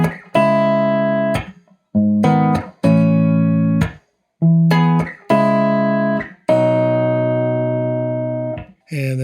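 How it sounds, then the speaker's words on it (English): Clean electric guitar through a Deluxe Reverb cabinet, picked up by a 4038 room mic placed between the null and the wall, giving spacious strummed chords in several bursts with short gaps and ringing decays, no talk. "It is a 4038 set up between the null and the wall so that you're getting the room sound"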